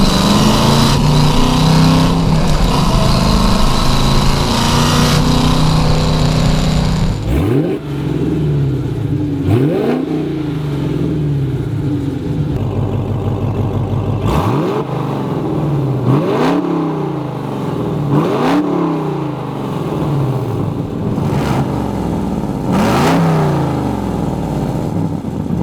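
A Hennessey HPE850 Hellcat engine with its exhaust cutouts open roars at a loud idle, then snaps through a series of sharp rising revs, about six blips, each falling back to a deep rumble, heard close and alone.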